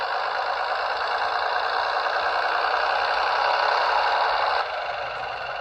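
A Bachmann class 101 DMU model train's sound system plays a steady, droning diesel engine note that swells as it revs, then drops to a lower level near the end, continuous and close with no talk.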